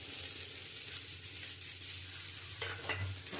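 Salt, turmeric, chilli powder and cumin powder sizzle in hot oil as they are stir-fried with fried potatoes, a close, steady crackling fry with occasional scraping stirs and no talking.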